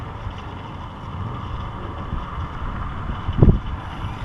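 A Slow Ultra Stick RC plane motor idles over gusty desert ground as a steady low drone mixed with wind, briefly swelling into a louder burst of power near the end.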